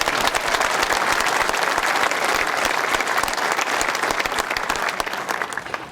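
Audience at a new high school dedication applauding loudly and steadily, dense continuous clapping throughout that tapers slightly at the end.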